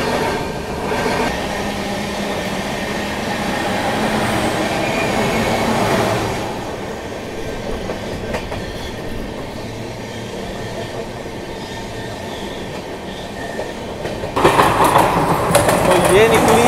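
The Telangana Express rolls along the rails with a continuous rumble and rattle of carriages and wheels, recorded from on board. A brief sharper clatter comes near the end.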